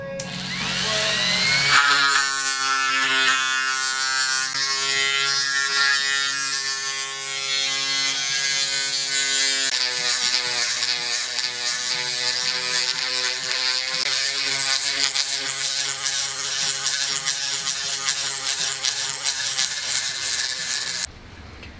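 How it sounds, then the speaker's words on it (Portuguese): A small high-speed rotary tool spins a sanding tube inside an engine's intake port, a loud, continuous whining buzz with steady pitch that shifts slightly as the tool is moved around, running alone for about twenty seconds before cutting off. "E a admissão eu finalizo com uma lixa, um tubinho de lixa igual esse daqui"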